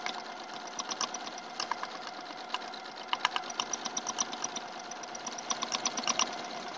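Domestic sewing machine stitching log cabin quilt rows in short bursts, a quick mechanical chatter that starts and stops repeatedly, close and moderately loud with no talking.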